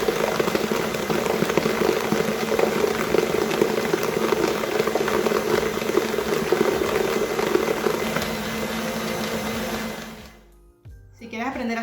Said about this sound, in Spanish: subimos la velocidad de la batidora y lo vamos incorporando en forma de hilo